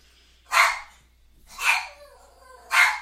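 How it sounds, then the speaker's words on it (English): A dog barks three times in steady succession, each bark loud and close with a short pause between, in an indoor setting with no talk over it. "Sometimes he just has to bark at everything"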